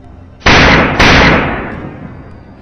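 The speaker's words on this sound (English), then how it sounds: "A single, decisive gunshot rings out, sealing off any chance of escape." Two sharp, loud gunshots during a wild boar hunt, close together, each followed by a long, fading echoing rumble.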